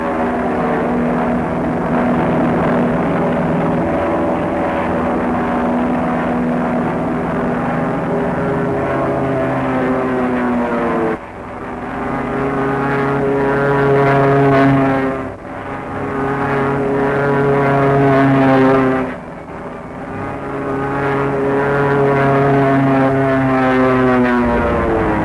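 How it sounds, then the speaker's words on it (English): P-51H Mustang propeller fighters flying in formation, a loud, sustained droning engine roar with strong harmonic tones that dips briefly several times as the planes peel off and pass. "Returning to formation, the fighters peel off once more for the bomb runs."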